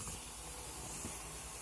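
Steam hisses steadily from an idli steamer pot, a broad, even wash of noise at low level with no voices.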